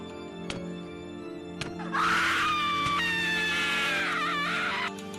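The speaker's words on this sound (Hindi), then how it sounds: "तभी रॉन के चीखने की आवाज़ आई" A sudden loud, sustained scream bursts in after a couple of sharp clicks and holds for about three seconds before cutting off, used as a sound effect in a Minecraft horror story set in the Nether.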